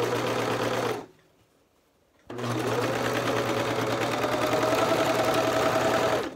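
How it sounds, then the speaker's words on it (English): Serger stitching over clear elastic on an athletic pants waistband, a steady mechanical whirring near and loud, pausing briefly for about a second before running on continuously. "I'm just gonna kind of overlap that and serge right over the top of it."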